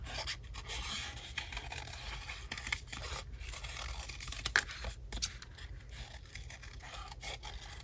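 Scissors snip and rasp through paper while cutting out a piece for a junk journal, a quiet close-up series of scraping cuts and small rustles with no talking.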